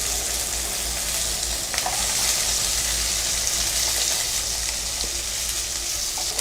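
Onion, dried red chilli and garlic sautéing in a pan for tomato gravy, giving a dense, steady sizzle with occasional stirring scrapes, close and loud throughout.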